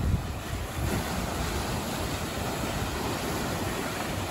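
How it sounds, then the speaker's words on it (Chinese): Large sea waves surging steadily against a rocky island shoreline at high tide in Malaysia, a continuous loud roar of surf with wind buffeting the microphone throughout, no voices. "现在这个浪也比较大"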